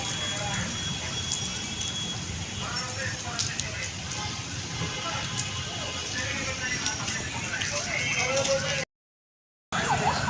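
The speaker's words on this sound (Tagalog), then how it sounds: "lakas ng ulan" Heavy rain drumming on a car in traffic near SM Taytay, a dense crackling patter heard from inside the vehicle beneath people talking, cutting out briefly near the end.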